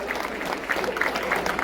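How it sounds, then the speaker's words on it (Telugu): An audience claps at an AZTA Ugadi 2025 community event, a dense, continuous patter of applause with a faint crowd murmur underneath. "చప్పట్లతో మారుమోగాలి."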